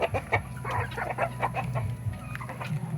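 Heritage chickens on a small farm kept with turkeys and geese, clucking repeatedly in short, busy bursts at close range over a steady low background hum.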